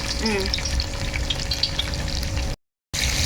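Oil in a kadai, heating for chicken dum biryani rice, gives off a steady close frying sizzle with faint stirring. The sound drops out to silence briefly, then resumes.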